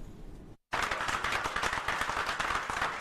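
After a brief quiet moment, dense applause breaks out suddenly aboard a hospital ship as a father holds up his little daughter. The clapping is close, steady and continuous to the end.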